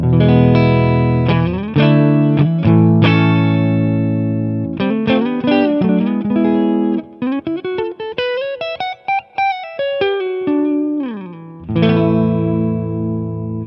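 Distorted electric guitar through an AmpliTube 5 amp simulator plays melodic phrases and bends, thick with effects and sustain, loud and up close, with brief gaps between runs.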